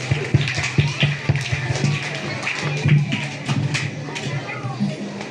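An audience at a school Independence Day roleplay of freedom fighters claps in scattered, uneven bursts, with voices and murmuring mixed in throughout.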